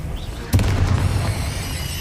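A Confringo blasting spell bursts in the Hogwarts Legacy video game, a sudden loud boom that leaves a rumbling, crackling tail fading over the next second and a half.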